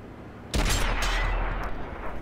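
A tank cannon shot in World of Tanks on PS4, fired by an AMX M4 mle. 45 French heavy tank: one sudden loud blast followed by a sustained rumbling roar that fades slowly, with no talking over it.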